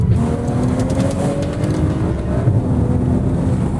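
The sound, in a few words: BMW 335i engine with turbo and dual-clutch gearbox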